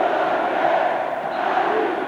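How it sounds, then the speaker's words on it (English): A basketball crowd at a 1995 World Junior Championships game between Australia and Greece roars in a sustained, dense wash of cheering and shouting that holds steady throughout. "And listen to that crowd."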